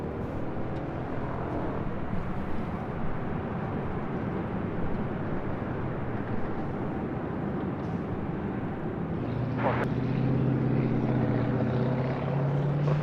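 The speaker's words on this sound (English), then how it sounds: "Heavy Boeing 747 on departure roll" A heavy Boeing 747 jet airliner rolls for takeoff on the runway at Los Angeles airport, a broad, steady engine roar from a distance that swells louder and deeper toward the end, with no voices.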